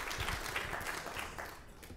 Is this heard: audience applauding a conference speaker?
yes